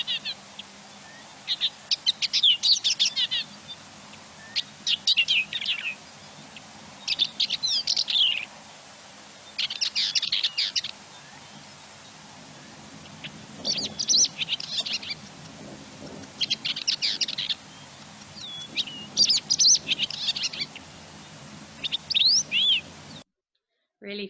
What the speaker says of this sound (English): A bird will fly up and just fly in a big circle doing these amazing display calls.